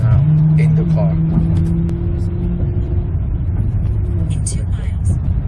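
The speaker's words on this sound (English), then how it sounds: "I'm in the Toyota Sienna and I'm checking out the sound in the car." Interior of a moving Toyota Sienna minivan, with low road and engine rumble and a steady hum throughout while a person talks over it.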